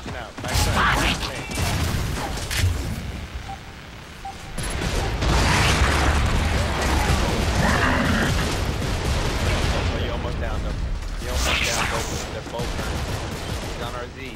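Gears of War 3 Warzone match with grenade blasts and gunfire, dense bursts of shots and explosions through most of the stretch, loud and continuous with faint mechanical clatter.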